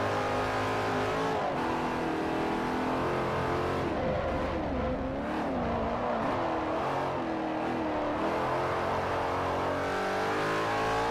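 A car engine in the Forza Motorsport 4 racing game drones loudly and continuously, with pitch sweeping up and down through gear changes and revs, along with faint tire noise.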